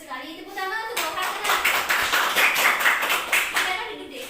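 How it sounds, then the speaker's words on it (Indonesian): Classroom applause during a peer-teaching lesson: a short burst of many hands clapping together for a student, steady and fairly loud for about three seconds after a brief voice. "Tepuk tangan untuk Roha"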